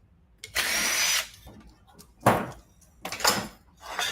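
Power tool unscrewing a scrap electric motor: several bursts of whirring drill-like buzz with short pauses between, close and fairly loud.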